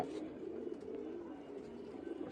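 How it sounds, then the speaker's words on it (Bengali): A female pigeon coos softly, a low steady murmuring call close by, with faint background hiss and no other voices. "এই একটা মাদি কবুতর"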